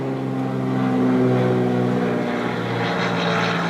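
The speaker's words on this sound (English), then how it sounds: "somebody decided to just do a flyby" Propeller aircraft flying low overhead, a loud steady droning engine hum that swells and shifts in pitch as it passes, close and alone.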